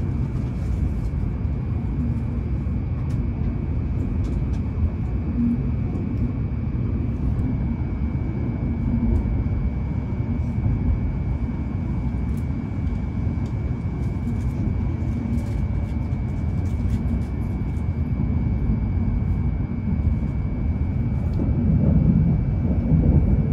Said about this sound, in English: First time riding the bullet train.